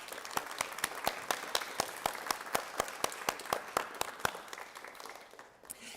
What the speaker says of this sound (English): Please, let's give another round of applause to all our students who received honors.